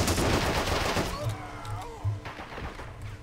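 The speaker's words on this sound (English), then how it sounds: "He's still shooting up my damaged tank here." Gunfire striking a tank in the video game Men of War Assault Squad 2. A dense, loud burst of shots fades into scattered thuds and ricochet-like whines, with no talking.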